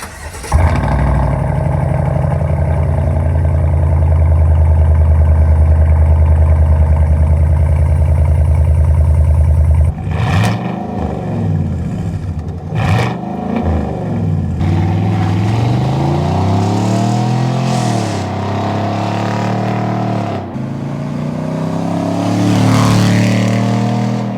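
A Chevy Silverado 5.3 truck's Borla Atak true dual exhaust idles with a deep, steady rumble, then the engine is revved repeatedly, the growl rising and falling loudly up close.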